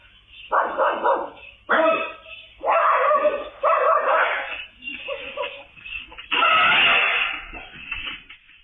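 Two small dogs bark at an elephant in repeated sharp bursts, loud and close, with yips between bark clusters and a longer harsh outburst near the end.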